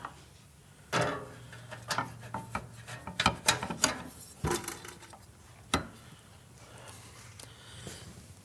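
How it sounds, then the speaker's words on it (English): An Allen key starting 3/16 screws on a Vance & Hines Hi-Output muffler for a Milwaukee 8 Softail Fat Bob, quiet close scraping and ratcheting clicks in irregular bursts with brief metallic knocks. "we're just going to start these 3/16 screws"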